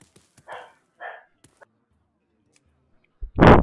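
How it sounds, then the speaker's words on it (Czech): A dog barks indoors: two soft muffled yips early on, then a loud close bark at the end after a quiet stretch with faint clicks. "přištěkal pes, to jste asi slyšeli"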